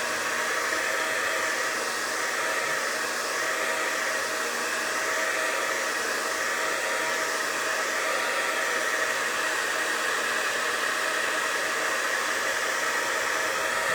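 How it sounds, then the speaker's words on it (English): Hair dryer on its hot setting drying paint on a snowman craft, a constant loud whooshing blow that holds steady for the full fourteen seconds with no talking. "I put this right on hot and I dry it good"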